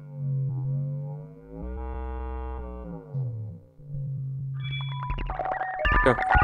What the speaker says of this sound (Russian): Треугольная волна